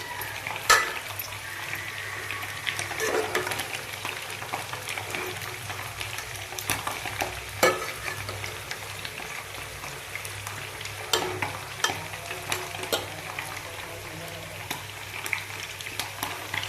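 Gongura leaves frying in oil for a raw prawn curry, with a close, steady sizzle broken by sharp stirring scrapes and clicks, alone without any talk.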